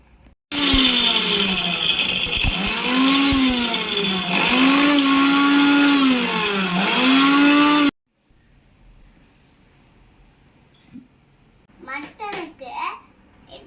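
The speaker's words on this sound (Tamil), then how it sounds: "மிளகு ஜீரத்தை மிக்சியில் போட்டுக்கலாம். மிக்சியில் அரைச்சிக்கலாம்." An electric mixer grinder whirring loudly as it grinds pepper and cumin, running in several pulsing surges for about seven seconds before stopping; afterward a quiet room with a voice nearby.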